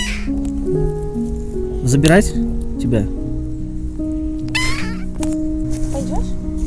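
A cat meows in rising, strained cries, a few distinct calls, as it is lured with a food pouch, grabbed by the scruff and put into a carrier after its kitten. People talk over it throughout.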